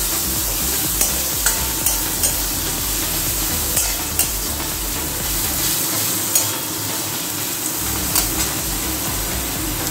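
Grated ginger and slit green chillies fry in hot oil, a loud continuous sizzle close by, broken by occasional soft clicks of stirring throughout.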